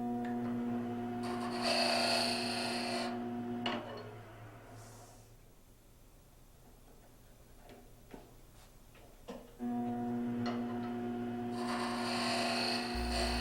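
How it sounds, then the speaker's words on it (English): Wood turning on a lathe as the final shaving is taken to fit the base of a capsule box: a steady mechanical hum and scraping at first, dropping to quieter tool scrapes and taps, then the lathe's drone returning loudly. "Just taking the final shaving off there to fit the base on."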